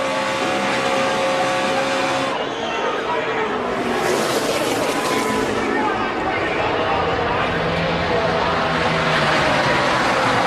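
NASCAR Xfinity Series race cars roar toward the finish line in a dense pack, a loud sustained engine drone and whoosh under excited commentary.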